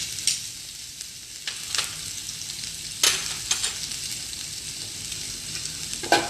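Chopped garlic and green chili fry in a pan with a steady close sizzle, broken by several sharp scraping stirs at irregular intervals, with no voices present.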